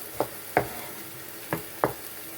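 Gentle sizzling of onions sweating in a pan, broken by four short scraping stirs at uneven intervals, close and moderately quiet.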